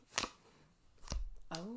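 Tarot cards are pulled from a deck in a few quick, soft papery snaps spaced across a second or two, with a voice speaking between them.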